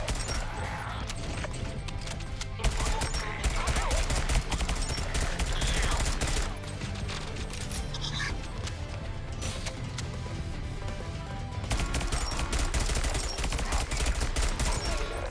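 Rapid gunfire from the video game Sentry, dense bursts of automatic shots with sharp impacts and crashes, loud and near, broken by brief lulls between volleys.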